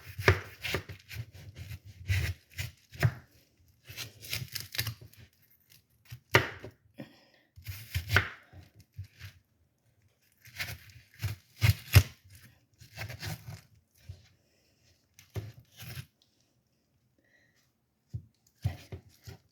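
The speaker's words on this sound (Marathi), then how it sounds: "ह्याचे असे छोटे छोटे भाग करायचे," A knife chops a watermelon into small upright pieces, making a quick run of close, crisp cuts in short bursts separated by pauses.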